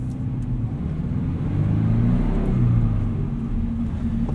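A 2014 Subaru BRZ engine rumbles steadily up close, swelling in the middle as it revs, then settling back to a low drone.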